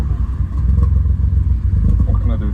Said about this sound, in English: Exhaust sounds horrible.